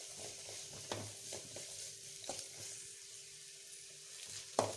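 Vegetables sautéing in a pan for egg fried rice with fried rice mix: a low, steady sizzle with several sharp clinks and scrapes of a spatula stirring, close and fairly quiet.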